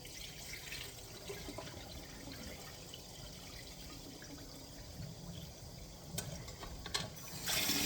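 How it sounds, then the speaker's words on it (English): Cold tap water runs steadily into a pot of cooked tortellini, a soft continuous splashing hiss that swells louder near the end. "I'm going to run more cold water in it."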